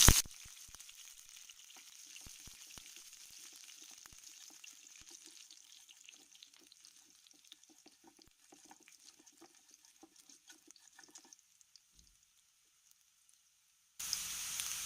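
Urad dal and green chillies sizzle in hot oil for a masala dosa, a soft, steady crackle with scattered pops that runs for about twelve seconds and then stops.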